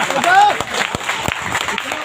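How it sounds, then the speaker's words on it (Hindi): An audience claps slowly with sparse, separate claps at an uneven pace, under and between a man's ongoing speech in a lecture hall. "ताली बज रही है बड़ा धीरे धीरे"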